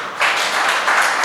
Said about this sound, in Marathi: थोड्या टाळ्या बाकी ठेवा, आपल्याला अजून भरपूर टाळ्या त्यांच्यासाठी वाजवाव्या लागणार आहेत